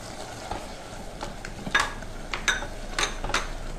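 Chopped onion, ginger-garlic paste and mustard paste frying in hot oil with chopped tomato for a keema veg biryani, a steady close sizzle broken by a few sharp clinks and scrapes of a spoon stirring in the pan.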